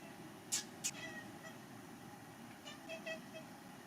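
A pet cat meows twice in quick succession, faint and somewhat distant indoors, followed by a few softer, fainter meows over a low background hum.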